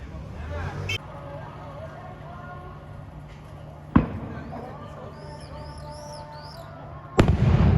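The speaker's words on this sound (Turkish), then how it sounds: "şimdi Antep Kalesi'nden iftar vakti için top atılacak" An iftar cannon fires from Gaziantep Castle, giving distant booming blasts, one sharp report mid-clip and another heavy thud near the end, over city ambience and faint bird calls.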